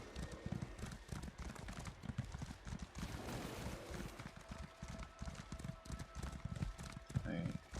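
Horse hooves clip-clopping in the Elder Scrolls Online game, a steady rhythmic trot running through the whole stretch amid background game ambience, with speech-like sound mixed in.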